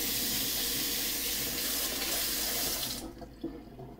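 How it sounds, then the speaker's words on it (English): Water running from a tap onto a black plate, a steady close rushing splash for about three seconds before it stops and leaves a quieter trickle. "So got this plate here, add some water to it."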